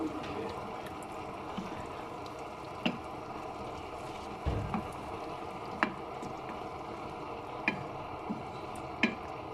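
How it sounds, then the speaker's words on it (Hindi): Chicken and ground chutney being mixed in a pan, with a soft continuous scraping and sizzle and a few sharp clicks of the spoon hitting the pan at irregular intervals, close by and with no voices. "अच्छे से हम मिक्स करेंगे इसको।"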